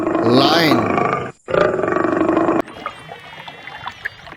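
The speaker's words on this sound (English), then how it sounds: "Lion." A lion gives a loud, deep roar with grunting tones, followed by quieter rustling wild-animal sounds in an outdoor nature setting.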